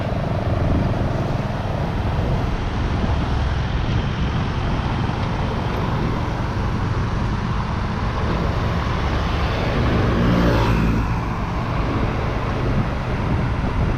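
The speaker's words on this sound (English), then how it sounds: "So yeah, traffic in Thailand, man." A car drives slowly along a backroad in Thailand amid traffic, its loud steady engine and road rumble joined by wind buffeting the microphone, with another vehicle briefly passing close by.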